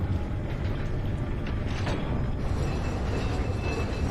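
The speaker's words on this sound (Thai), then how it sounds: "รถรางวิ่งมาแล้ว" Mine rail cart rolling through an underground mine in Resident Evil 4, a steady dense mechanical rumble and clatter filling the whole clip with no talk.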